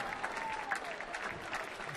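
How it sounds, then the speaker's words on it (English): A crowd at an evening swing dance show applauds the dance instructors, sustained dense clapping heard from a distance, steady throughout with faint voices mixed in. "how about another big round of applause for your dance instructors for the evening, Mr. Tom Kerner and Deborah Sternberg"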